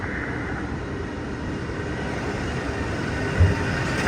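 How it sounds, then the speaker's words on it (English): High-pressure steam leak blowing up from underground on a city street, a steady broadband roar filling the scene with no break, plus a couple of brief low thumps near the end. "Heavy pressure blowing."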